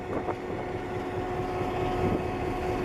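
A cargo locomotive idles with a low, steady engine rumble throughout, with faint wind noise over it and no talking.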